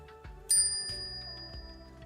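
A bright notification bell chime for a bell icon, one clear ring with a shimmering tail, fairly faint and alone with no talk.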